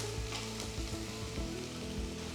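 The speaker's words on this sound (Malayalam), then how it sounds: "നല്ല അണിയൻസ് സോഫ്റ്റ് ആകുന്ന വരെ കുക്ക് ചെയ്യുക" Onions sizzle steadily in a pan for dal palak tadka, a close, continuous frying hiss with light stirring scrapes.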